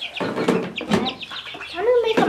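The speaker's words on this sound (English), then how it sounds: "It's chicken wrangling time." Chickens and roosters on a small half-acre homestead cluck and squawk in a busy, overlapping chorus close by, with one drawn-out call near the end.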